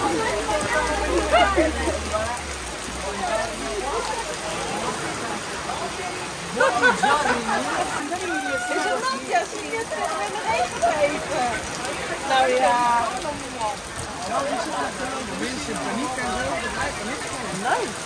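Rain patters steadily on surfaces around an outdoor dining spot in Sicily, a continuous wash of drops heard under frequent nearby conversation.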